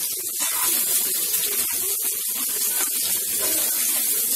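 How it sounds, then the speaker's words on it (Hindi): Chopped onion fries in hot oil in a kadai, making a steady, loud broadband sizzle that holds unbroken throughout. "एक कढ़ाई में हम लोग तेल ले लेंगे, फिर इसमें थोड़ा सा प्याज डालेंगे, फिर इसे फ्राई कर लेंगे।"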